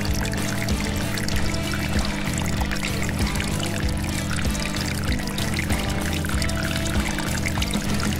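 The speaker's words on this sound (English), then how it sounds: "My tri-flow pump is running." Water pours steadily from the running pump of a LEGO gas station model with underground fuel tanks, a continuous close trickle with a faint mechanical hum underneath and no voices.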